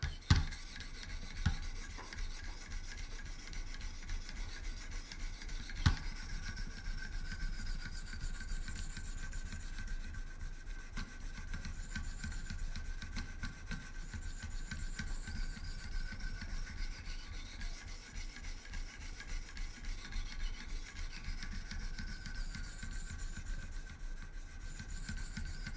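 A Great Eastern Cutlery traditional knife is sharpened on 800 and 1000 grit Wicked Edge stones, a steady, close rasping rub of repeated strokes with a few sharper knocks and no talking.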